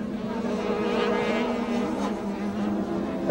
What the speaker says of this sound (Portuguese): moto trepidando bastante.